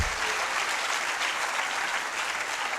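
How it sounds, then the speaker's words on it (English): A conference audience at an anniversary opening ceremony claps steadily, a dense sustained round of applause heard close and alone for a few seconds. "I thought we would have a louder round of applause."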